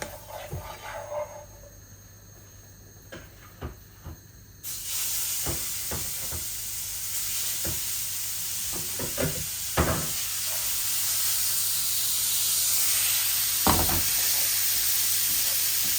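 Koi fish seasoned with salt and turmeric frying in oil, first a quieter sizzle with sharp knocks and clatters of a utensil, then a sudden louder, steady hiss of frying that carries on with occasional bumps from stirring.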